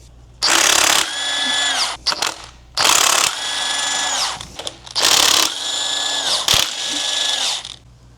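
A power tool whirs in three loud bursts of about two seconds each, removing main cap bolts from a blown-up stock Toyota Supra engine, with brief ratcheting clicks and pauses between runs.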